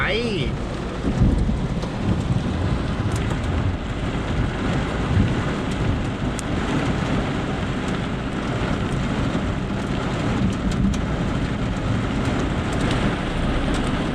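A summer thunderstorm with hail, heard from inside a parked car after a walking-street market: steady loud rain and hail drumming on the roof and windshield, with thunder rumbling underneath throughout.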